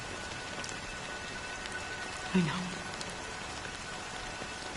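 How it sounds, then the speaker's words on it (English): Steady rain falls throughout a scene in the video game Honkai: Star Rail as a dense, even patter, with a brief soft voice rising over it midway. "But it's still raining."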